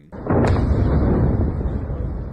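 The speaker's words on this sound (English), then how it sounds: "We were able to see that there was a massive explosion within this area today" Massive explosion in Sulaymaniyah, Kurdish Iraq: a sudden loud blast that swells into a sustained, rumbling roar, heavy and distant-sounding, with no voices over it.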